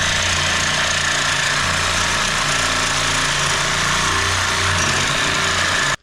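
A power tool rattles and buzzes loudly and continuously up close while removing rusty fasteners from an 88-98 GMT400 truck, then cuts off abruptly at the end, with no talking.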